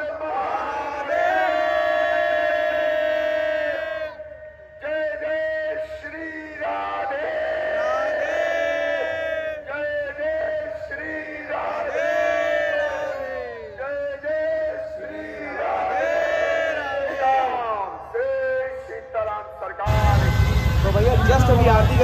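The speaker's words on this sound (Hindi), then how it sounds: "बहुत ही तगड़ी वाली भीड़ है" Large crowd at a Ram Barat procession in Kannauj, India, shouting and chanting loudly in repeated surging waves of massed voices, ending in a burst of noisy roar.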